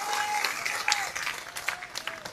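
A crowd at a large protest march in Nanded claps at moderate volume, heard as brief, fairly dense applause with a faint voice running through it.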